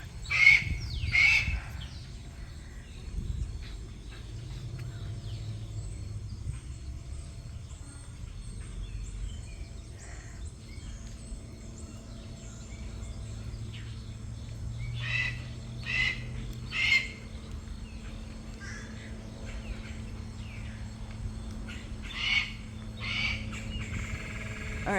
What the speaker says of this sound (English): hearing some other birds a little upset